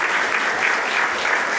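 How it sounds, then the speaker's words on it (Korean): A church congregation claps steadily and warmly during a worship service, a dense, sustained applause with no break. "하나님께 박수로 우리 영광 돌리겠습니다."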